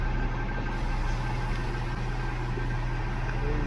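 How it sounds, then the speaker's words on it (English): Heavy engine rumble and idling drone from buses on a street, steady and fairly loud throughout with no distinct pass-by peak, no talking. "3 damn buses have turned up."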